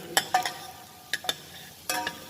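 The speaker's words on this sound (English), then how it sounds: "make sure you continuously stir with ladle" A ladle stirring vegetables and garlic in a cooking pot, heard as sharp scraping clacks in three short bursts over a faint sizzle, close and fairly loud, with no talking.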